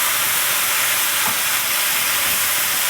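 Ground turkey sizzles in a hot pan, giving a loud, steady frying hiss that holds constant throughout with no talking.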